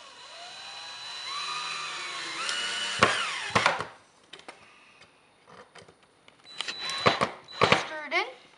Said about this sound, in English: Screw it in.